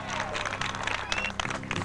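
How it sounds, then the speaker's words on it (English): An outdoor crowd at a bass fishing tournament weigh-in claps and cheers for the final two anglers, a dense, moderately loud patter that continues under an announcer's voice. "Let's have a big round of applause for your final 2 anglers."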